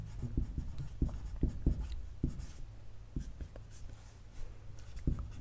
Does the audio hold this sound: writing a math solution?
yes